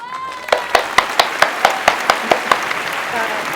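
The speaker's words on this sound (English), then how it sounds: "Y'all give them a round of applause" Small audience applauding a couple, Tito and Francis Sisnett, at a live expat interview event in Panama: a run of distinct, fairly close claps in a steady rhythm over a low room murmur, then fading out.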